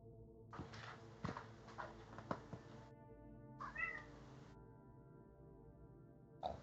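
A person imitates a cat, giving several drawn-out meows from the end of a hallway, fairly close and clear, between short pauses with faint background noise.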